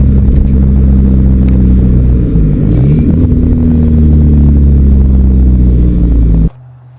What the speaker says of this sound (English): A little cruise in the wagon.